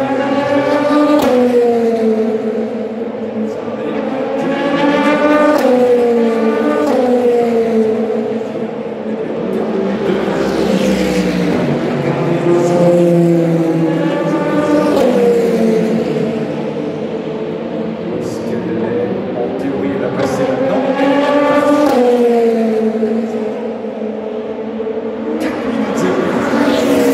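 Race cars, including Oreca prototypes, lap at the 2025 24 Hours of Le Mans, their engines rising and fading in repeated loud passes with shifting, sweeping pitch.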